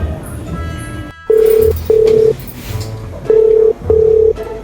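A telephone call rings out after dialing, with four loud steady ringback tones in pairs, near and prominent, over a murmur of room noise and faint voices.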